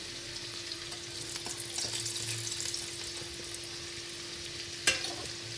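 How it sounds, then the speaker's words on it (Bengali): Bay leaf and dried red chillies sizzle in hot frying oil left after frying fish heads, a steady close crackling hiss that runs throughout, with a brief sharp clink near the end. "আর ওই তেলেই আমি দিয়ে দেবো হচ্ছে তেজপাতা, এদিকে শুকনো লঙ্কা।"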